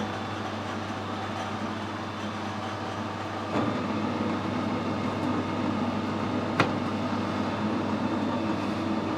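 A lathe cuts a thread on a motorbike headstock nut, giving a steady mechanical hum with faint grinding and a couple of brief clicks, constant and moderately quiet with no talking.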